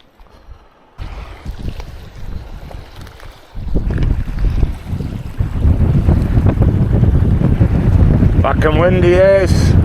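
Strong wind buffets the microphone on the shore at French Bay in West Auckland, building into a constant loud roar with gusts, while someone speaks briefly over it.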